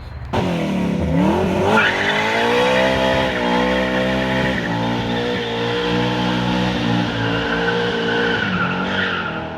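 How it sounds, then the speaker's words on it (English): A car holds a loud, sustained burnout, engine revving hard as the tires squeal in a continuous high screech that rises in pitch early and then stays steady, close and alone for about nine seconds. "That burnout was brought to you by Bigfoot."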